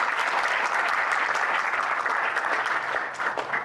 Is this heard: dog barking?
no